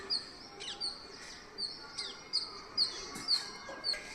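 Parrots chirping outdoors in the morning near a hibiscus tree, with repeated sharp high tweets every half second or so over a quiet background, moderately distant.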